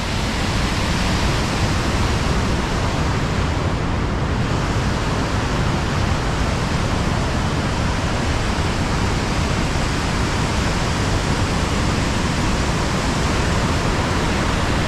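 The main waterfall on the River Tees, dropping between two large rock outcrops, gives a constant dense roar of falling water, loud and unbroken throughout.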